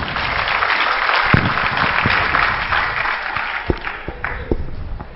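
Audience clapping before a village theatre play begins, a loud, close wash of hands with a few sharper, distinct claps standing out near the end, no voices over it.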